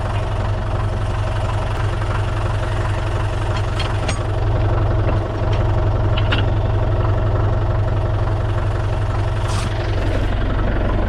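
A Farmall Super C tractor engine idles steadily nearby with a low, continuous rumble and a few faint clinks over the top.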